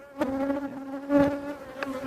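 Honey bees buzz steadily and close during a hive inspection of a strong colony, a sustained droning hum with brief louder swells as bees pass near, with no talking.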